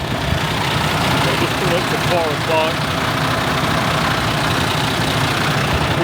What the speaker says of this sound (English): We've got the engine going.